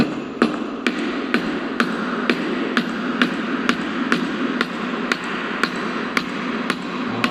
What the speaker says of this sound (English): Applying the heavy force on the component face with the aid of hammering action, he completed the mortise and tenon joint